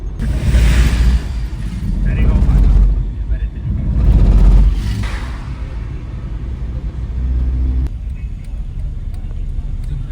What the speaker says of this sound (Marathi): गाडी चालणार आहे गाडी चालवतोय मी.